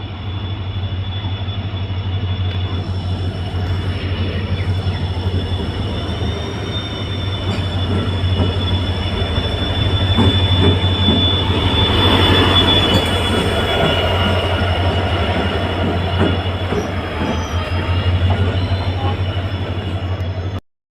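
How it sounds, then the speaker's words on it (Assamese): A passenger train pulls into a station on the Pathshala to Jagiroad line, with steady loud rumble, screeching wheel squeal, and rattling carriages sounding close and continuous throughout. "তো এতিয়া ট্ৰেইন আহি গ'ল।"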